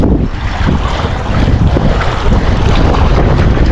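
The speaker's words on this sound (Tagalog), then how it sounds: "Mahangin kasi mga master, lakas kasi ng hangin." Strong wind roars steadily into the microphone while fishing in Bahrain, a loud continuous rumble with gusty buffeting and water sloshing beneath, no voices.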